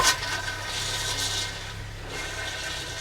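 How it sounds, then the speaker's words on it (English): An RV toilet in a Strada or Terreno camper is flushed to fill it with RV antifreeze, giving a steady rushing, hissing water sound that runs close and unbroken throughout, with no talking. "Go ahead and just flush your toilet like you would normally flush your toilet until you get a steady stream of RV antifreeze."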